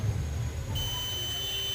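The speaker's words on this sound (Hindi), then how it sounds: "बीप कर रहा है।" A digital multimeter in continuity-test mode gives a steady electronic beep that starts partway through and holds continuously over a low background hum.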